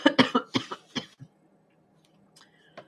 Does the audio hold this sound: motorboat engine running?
no